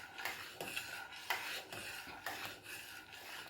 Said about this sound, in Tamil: நல்லா கிண்டி கொண்டே இருக்கணும்.